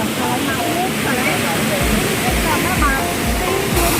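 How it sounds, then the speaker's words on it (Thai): A waterfall pours down from a height at a cool-weather site near Kengtung, a loud, steady rushing roar of falling water that fills the whole stretch with no break. "นู่นนี่เพื่อนดูน้ำตกนะครับ ตกจากข้างบนนู่น ลงมาครับ"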